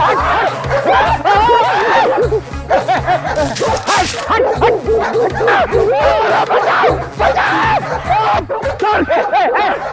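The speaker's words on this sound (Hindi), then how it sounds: "ये खूंखार कुत्ता है" A fierce dog barks repeatedly and loudly at close range, its rapid barks mixed with excited human voices and shouting throughout.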